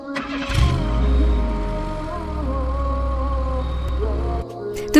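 A man imitates a car engine with his voice, a low rumbling drone that rises and holds steady for several seconds before cutting off, loud and close with no other talk.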